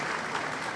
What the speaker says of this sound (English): give both bands a round of applause